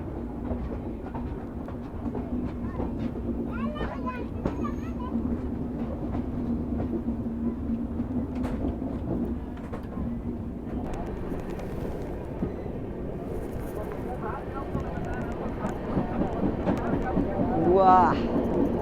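The Marudhar Express (14854) pulling out of Bharatpur Junction, with continuous rolling rail noise and rhythmic clickety-clack from the carriages, and voices talking over it.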